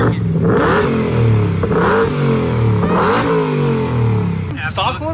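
A Ford Raptor fitted with a Hellcat engine and aftermarket exhaust revs repeatedly, four or five loud, close throttle blips rising and falling in a rough rhythm, with a voice audible near the end.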